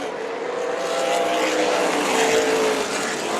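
Race cars at Tucson Speedway roar past in a continuous, fairly loud engine drone with a rising and falling pitch as they pass, heard from a distance with no voices.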